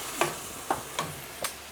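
Soy sauce sizzles in a frying pan of chicken and mushrooms, a steady close frying hiss broken by four sharp scrape-and-stir accents at uneven intervals.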